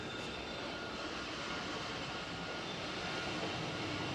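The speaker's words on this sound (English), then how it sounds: "I can bring the drone up." A camera drone rises over a rail maintenance site, its rotors giving a steady, loud, continuous whirring drone that holds at an even level throughout, with no talking.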